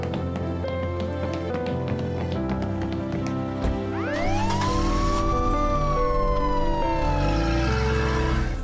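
An ambulance siren wails loudly and continuously, rising and falling in pitch, sounding over a steady background of music-like tones.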